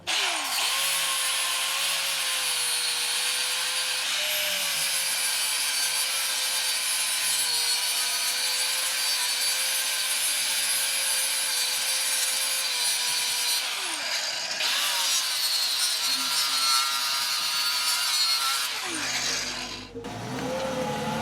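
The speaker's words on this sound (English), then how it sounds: "we're gonna go ahead and grind that casting number down and this edge with my flap disc" A 120 grit flap disc grinds down a brake caliper casting, a loud, high, abrasive whine held steadily for most of the span with a brief dip midway, then cutting off and spinning down near the end.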